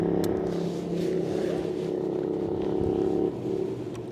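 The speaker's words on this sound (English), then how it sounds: "We've had quite a few biker groups go past" A group of motorbikes rumbles past on a scenic road in Scandinavia, a steady loud engine drone with a slight dip near the end, heard from beside water with no talking.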